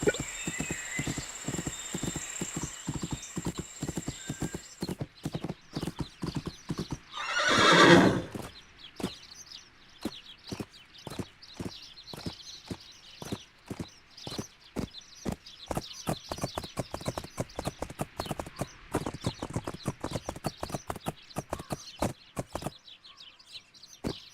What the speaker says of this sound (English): I should change to a gallop and give it a try.